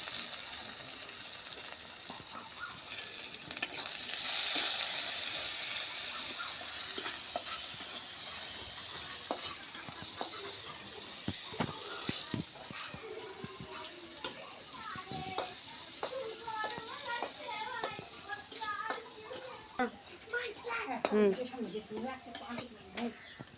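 Dried chili, chopped garlic and onion sizzle in hot oil while being stirred, with steady frying hiss, scraping of a spoon against the pot and occasional clinks, moderately loud and close.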